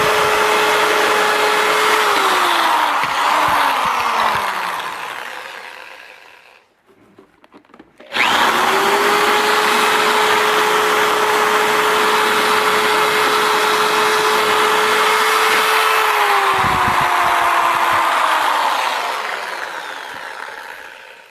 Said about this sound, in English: This is a really large drill bit.